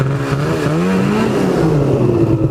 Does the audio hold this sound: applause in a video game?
no